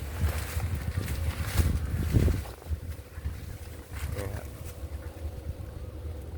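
Strong wind gusts through a banana plantation under hot sun, a loud, rushing buffeting that swells and eases against the microphone, with a voice heard briefly in the mix.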